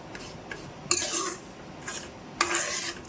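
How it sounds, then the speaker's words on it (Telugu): Jaggery syrup stirred in a pan until it melts, with a few distinct scraping sweeps of the spoon against the metal, close by, separated by short quiet gaps. "బెల్లం అంతా కరిగేంత వరకు నీట్గా మనం దాన్ని ఇలా కలుపుతూనే ఉండాలి"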